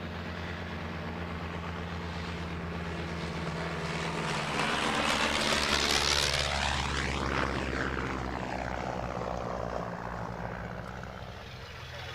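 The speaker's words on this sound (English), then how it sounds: "This is followed by 2 of the 3 remaining airworthy Miles Magisters, accompanied by the collection's new de Havilland Chipmunk" Two Miles Magister propeller aircraft and a de Havilland Chipmunk in Royal Canadian Air Force colours fly past at an air show, their engine drone rising to a peak and falling away with a clear pitch sweep.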